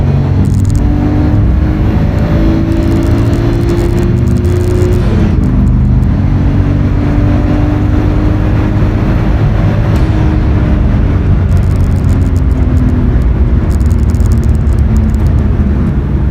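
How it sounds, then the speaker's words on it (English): A loud, continuous engine drone from a Nissan Skyline R32, with rising and falling revs that shift through gears. It sounds close and powerful, with no voices over it. "I mainly focused on the symphony of the motor itself."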